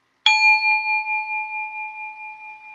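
A single bell is struck once, giving a clear, bright ding with a long ringing tail that slowly fades and wavers over about two and a half seconds, heard alone in a quiet room.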